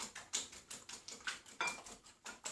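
Eggs for an omelette are beaten in a bowl, a fork or whisk clinking against the sides in a quick, even rhythm of light taps, close and fairly quiet.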